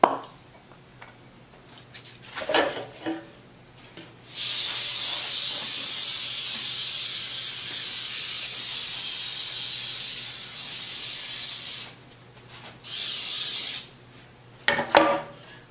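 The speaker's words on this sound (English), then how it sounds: "I'm going to spray my pan." Cooking spray hisses from an aerosol can onto a cake pan for a ginger cake, one long continuous spray of about eight seconds, then a shorter burst, with quiet handling noises before and after.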